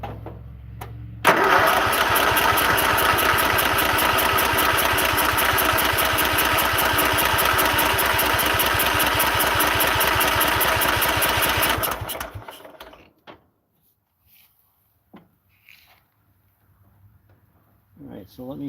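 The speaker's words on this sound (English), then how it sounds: "not sure if that garbage was getting up into the carburetor and not letting it start, but here we go again." A 1973 Harley-Davidson Super Glide engine, choke on, cranks loudly and rhythmically for about eleven seconds without catching, then falls quiet apart from faint clicks and handling noises.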